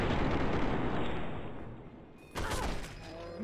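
M60 machine gun firing in Fallout 3, a loud dense burst up front that fades out, then a second sharp burst near the end.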